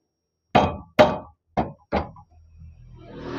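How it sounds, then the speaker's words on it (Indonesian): Four sharp knocks land on a part of a homemade wood lathe, loud and close, spaced about half a second apart, then a low rumble follows. "setelah itu kita ketok di sini"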